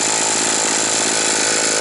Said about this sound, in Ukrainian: Чуєте, пила вже починає пострілювати вихлопні.